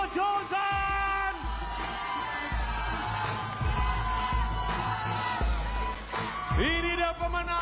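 Studio audience at a Malaysian comedy musical competition show cheering, yelling and whooping for the announced weekly winner, a loud continuous crowd roar with music underneath and an announcer's voice over it.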